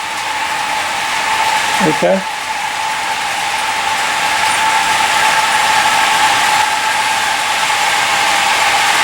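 A steady mechanical rumble and rattling drone of a Southern Railway train passing on staging tracks in 1981, loud and continuous throughout, with a brief spoken word near the start.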